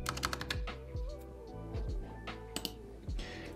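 Someone types a search into a computer keyboard. Quick bursts of close key clicks come in irregular runs with short pauses between them, and there is no talking.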